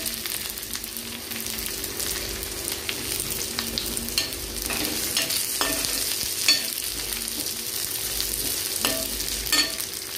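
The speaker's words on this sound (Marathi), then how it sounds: "तर हे बघा, छान असं परतला जातोय कांदा।" Thickly sliced onion frying in oil gives a continuous close sizzle, broken by frequent stirring scrapes and light clicks, with no speech.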